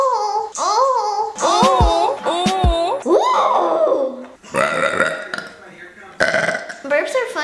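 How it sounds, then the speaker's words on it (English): A long, drawn-out burp with the mouth moving to warp its pitch, loud and close, followed by more gurgly burping and babbling vocal sounds. "Burps are funnier if you move your mouth while you do it"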